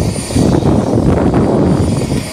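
Helicopter flying over New York, its engine and rotor making a loud, steady, broadband roar that holds throughout with no voices.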